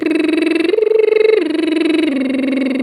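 A singer performs a gentle medium-range lip trill, a buzzing, fluttering voiced tone that steps up in pitch, holds, then steps back down in a smooth pattern, loud and close.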